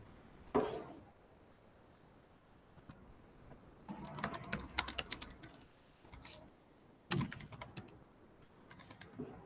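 Bursts of computer keyboard typing in a quiet room, clustered in short runs with pauses between them, close and moderately loud with no voices.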